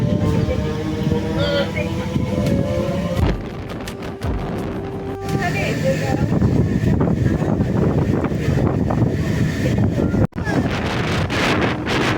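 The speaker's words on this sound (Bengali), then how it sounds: "আর এই সময় মুষলধারে আবার বৃষ্টি" Steady roar of heavy rain and wind buffeting the microphone, continuous and loud throughout, with faint rumbling from a moving train beneath, near Panagarh, West Bengal.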